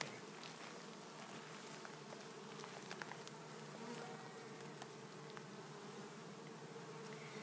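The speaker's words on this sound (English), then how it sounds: "there's a lot of bees in here today, even though it's warm and they should be out foraging" Dense, continuous buzzing of many bees close by inside a hive, a steady droning hum with no voices.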